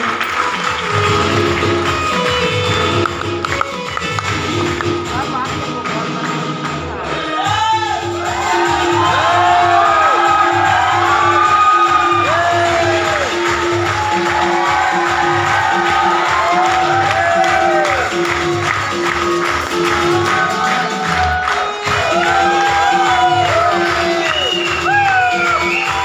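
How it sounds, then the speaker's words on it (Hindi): An audience at a stage event claps and cheers with whoops and shouts as a speaker is welcomed on stage, loud and sustained over music, with a brief dip partway through. "एक जोरदार ताली के साथ ये मंच पर"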